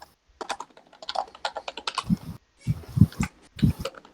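Fast typing on a computer keyboard sounds up close as irregular bursts of clicks and clacks, with heavier keystrokes thumping in the second half.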